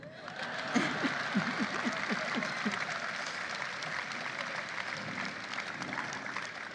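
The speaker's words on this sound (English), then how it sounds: "That's an applause line." Audience applause at a political celebration speech, a fairly faint, steady wash of clapping from a crowd that holds evenly throughout, with a few low voices and chuckles mixed in.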